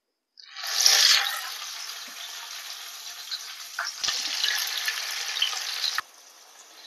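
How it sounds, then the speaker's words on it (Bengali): Cabbage-leaf chicken rolls go into a little hot white oil in a kadai and hiss loudly, with a sharp burst of sizzling at first that settles into a steady crackling fry before stopping abruptly. "এবার রোলগুলোকে আমি হালকা করে সেঁকে নেব"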